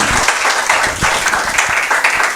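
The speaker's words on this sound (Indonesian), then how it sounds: "Boleh berikan tepuk tangan bagi Tuhan Yesus." Loud applause from a church congregation during a Sunday service, a dense burst of many hands clapping, close and continuous throughout.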